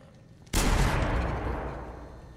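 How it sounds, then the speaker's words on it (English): A video game shotgun fires once with a sharp, loud blast, followed by a long broad rumbling decay that fills the rest of the moment. "appears to be some kind of shotgun"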